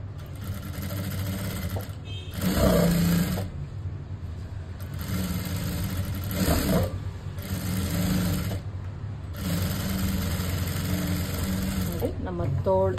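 A sewing machine stitches the lining of a blouse sleeve in several loud bursts of rapid whirring separated by quieter pauses, with a voice talking during the gaps.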